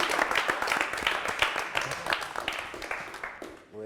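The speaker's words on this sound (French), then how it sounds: "On applaudit pour notre ami." An audience claps for a volunteer during a French-language session on Gakondo playing cards, brisk scattered clapping that fades out toward the end.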